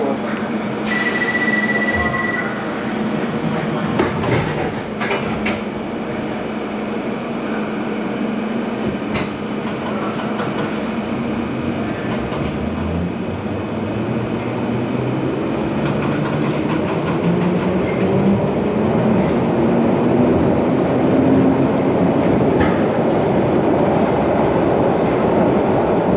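A London Underground train running to Elephant and Castle rumbles and clatters along the tracks, loud and continuous, with a rising whine as it gathers speed and a few sharp clicks.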